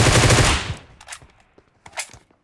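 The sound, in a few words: gunfire knocking down an enemy in video game PUBG Mobile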